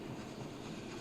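A fertilizer train rolls along in the factory-building video game Oddsparks, giving a low, continuous rumble with faint rail clatter, moderately quiet and with no voices.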